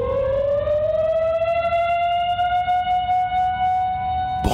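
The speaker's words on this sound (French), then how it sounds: "la sirène de la centrale se déclenche à 4h30 de l'après-midi" A prison siren at the Fontevraud central prison wails on its own in a loud, steady tone that slowly rises in pitch, then cuts off abruptly at the end.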